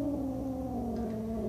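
A formerly feral cat gives a low, sustained growl, close and fairly quiet, one unbroken rumble lasting the whole moment.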